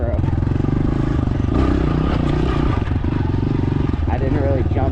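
A dirt bike engine runs hard during a ride, a loud and steady buzzing drone that swells briefly near the middle and comes through wind noise, with a voice talking over it.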